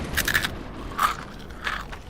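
Crunching bites of Snyder's of Hanover pretzels in an office advert, three distinct crisp crunches spaced about half a second apart, close and clear with no talk.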